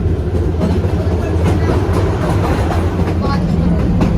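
The narrow-gauge Kalka–Shimla toy train runs steadily on rails nearby, with a loud low rumble and rhythmic clatter of wheels throughout.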